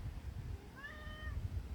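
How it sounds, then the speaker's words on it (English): A pet cat named George gives a single drawn-out meow from outside while trying to climb in instead of using the cat flap, moderately clear over a low, steady background rumble. "You're not going to climb your way in, you silly cat."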